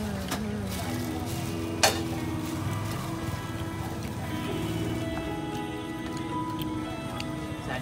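Kanthari chili frying at a Kochi street food stall: a steady oily sizzle with occasional sharp clinks and taps of utensils, set against faint background street noise.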